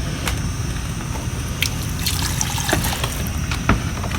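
Water trickles and splashes softly in a steady stream into a pot for egusi soup, with occasional brief drips, faint and close.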